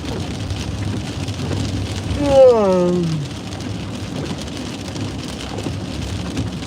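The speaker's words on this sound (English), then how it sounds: "I hate driving in the rain." Steady rain hissing against a moving car while driving in heavy Southwest Florida rains, a constant dense wash under a short voice-like tonal sweep, close and fairly loud.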